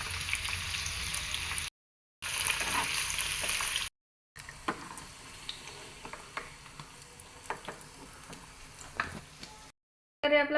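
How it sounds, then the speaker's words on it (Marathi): Paneer slices fry on a hot tawa with a steady, moderately loud sizzle and scattered crackles, cut by brief silent gaps, with no talking. "पनीरचे स्लाइस करून घेतलेले आहेत आणि ते आपण आता तव्यावर फ्राय करणार आहोत"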